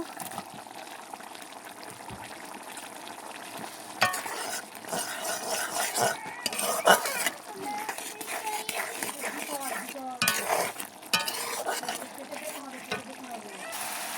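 Dried fish stirred with spices and oil in a pan alongside cabbage, a steady scraping of utensil against metal with faint sizzling, continuing throughout at close range.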